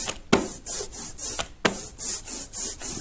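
An ink roller makes repeated crackly, rasping passes across sticky block-printing ink, about five strokes in a steady back-and-forth rhythm with brief clicks between.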